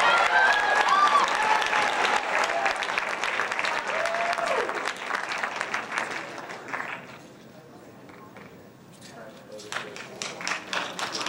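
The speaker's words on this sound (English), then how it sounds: "give him a big round of applause, absolutely." Audience at an academic decathlon awards ceremony applauding a scholarship award recipient, a full round of clapping with a few whoops that thins out midway, then picks up again briefly.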